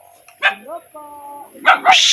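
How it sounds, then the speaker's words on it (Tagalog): A dog on a farm gives short, close barks and yips between bursts of nearby talk. "Anong klaseng tahol yan? Walang lambing-lambing."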